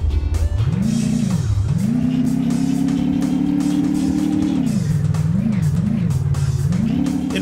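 A synthesized car engine sound effect for an indie milkman video game hums steadily, its pitch rising, holding, dipping and climbing again as the vehicle revs and eases off. It is close and continuous, with no voices.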